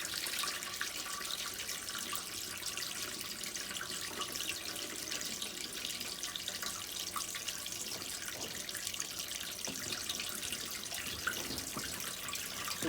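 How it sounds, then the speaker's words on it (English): Water draining out of a Likein foot spa through its attached hose, a continuous close rushing splash of flowing water at steady volume with faint drips and knocks near the end. "take the hose that's attached, take off the lid, and that is going to pretty quickly drain everything on the inside"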